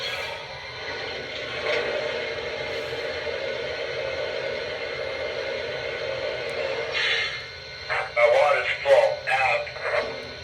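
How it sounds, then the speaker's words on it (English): A Lionel Camelback steam locomotive model plays its sound effect of water filling the tender: a steady rushing, hissing flow for several seconds, close and moderately loud. It ends with a few short speech-like bursts. "And here's the sound of water being added to the tender."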